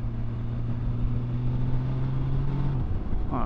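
A big touring motorcycle, a Honda Goldwing or BMW K1600B, pulls away under steady acceleration, its engine drone climbing in pitch, then easing off near the end, with no talking over it.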